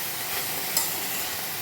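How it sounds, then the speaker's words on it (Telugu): Eggplant pieces frying in a pan for Andhra-style curry give a brief steady hiss of sizzling oil with one faint scrape of stirring, close and even throughout. "ఇలా అన్ని ముక్కలు వేసిన తర్వాత ఒకసారి కలుపుకోవాలి."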